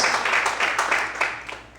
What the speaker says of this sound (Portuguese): Aplauda o Senhor nessa noite